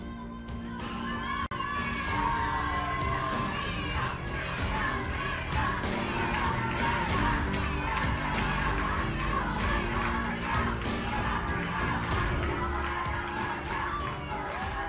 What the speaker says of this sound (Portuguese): a torcida realmente está muito agitada aqui